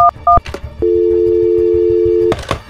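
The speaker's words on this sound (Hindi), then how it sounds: "उन्होंने घर का नंबर लगभग पूरा डायल ही कर लिया था" A telephone handset gives two short dial tones, some clicks, and then one long steady tone of about a second and a half, loud and close, with clunky handling noises around it.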